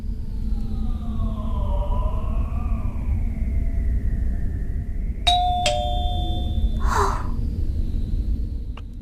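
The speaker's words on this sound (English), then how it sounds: "I thought someone rang the bell." Doorbell chime in an animated anime episode: two bright tones ring out, clear and fairly close, over a steady background music bed with no talking.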